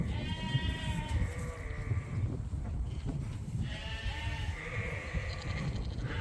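Several lambs and sheep bleat repeatedly on a sheep farm, a lamb calling for its mother, overlapping cries rising and falling against a busy outdoor background.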